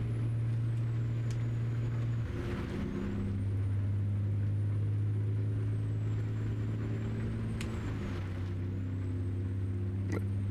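Steady low engine drone of a Sinclair truck driving in American Truck Simulator, with shifting tonal hum, a brief air-brake-like hiss and faint high whine, continuous and fairly close.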